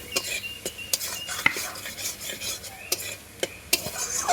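Spice masala being stirred and fried down in a pan, with repeated sharp scrapes and clinks of a utensil against the metal over a soft, faint sizzle, close and irregular.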